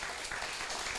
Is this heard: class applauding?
yes